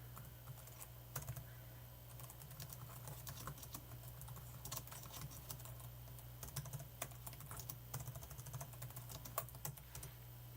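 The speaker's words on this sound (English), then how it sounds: "I'm terrible at typing." Rapid, irregular keystrokes on a computer keyboard, clattering in uneven bursts close to the microphone over a steady low electrical hum, with no talking.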